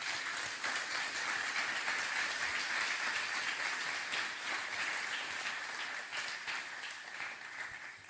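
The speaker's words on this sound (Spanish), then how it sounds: "Puedes darle un fuerte aplauso al Señor." A church congregation breaks into loud applause to praise the Lord during a sermon, a dense, sustained wash of clapping from a large room that fades slightly near the end.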